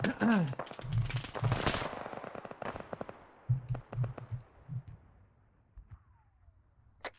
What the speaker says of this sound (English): They are suppressing the shit out of this dude in the tower